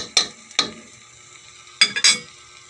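A frying pan handled on a stove while fish is being fried, four sharp metallic clanks in two pairs against a quiet background.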